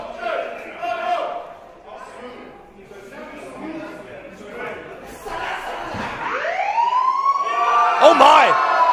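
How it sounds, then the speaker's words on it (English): A wailing siren entrance theme blares through an arena at a professional wrestling show, its rising and falling tone swelling toward the end over crowd noise and a commentator's voice. "that siren sounds awfully familiar"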